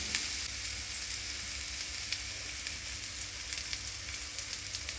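Mutton iguru masala sizzles steadily in a hot pan, a dense continuous frying hiss with occasional crackles and pops, close and moderately loud, no voices.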